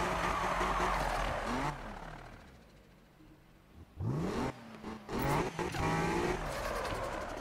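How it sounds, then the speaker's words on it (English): BMW M4 engine in Need for Speed 2015 revving and accelerating in loud bursts, with rising pitch sweeps, a quieter lull in the middle, then renewed hard revs near the listener. "I can literally rev my car all day in Need for Speed."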